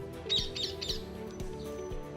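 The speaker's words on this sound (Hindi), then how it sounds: "तोते की टाई टाई," A parrot lets out three quick, sharp chirping calls in a row, then falls quiet while a soft musical bed continues underneath.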